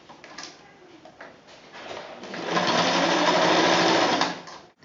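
A sewing machine stitches together backpack straps for a Finn's pack, running in short bursts at first and then in one steady, loud continuous run before stopping, close up with no talking.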